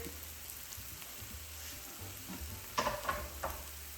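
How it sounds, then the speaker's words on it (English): Cherry tomatoes sizzle in a hot pan for ratatouille, a soft steady frying hiss with a few brief crackles and stirring scrapes near the end. "I'm adding in the first set of tomatoes, cherry tomatoes"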